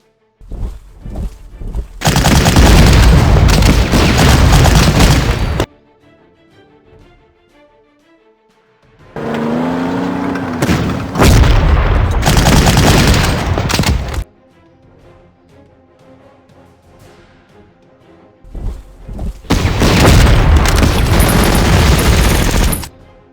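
Artillery explosions in Panzer Corps, three long, loud bursts of rumbling blasts and rapid firing, each separated by quieter stretches of background music.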